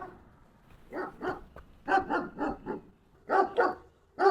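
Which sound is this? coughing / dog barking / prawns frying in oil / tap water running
dog barking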